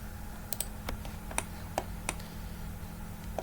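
Arrow keys on a computer keyboard tapped one at a time while moving an object in SketchUp, a handful of sharp, close clicks spaced irregularly over a quiet background.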